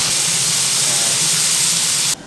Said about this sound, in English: So they're sizzling away quite nicely.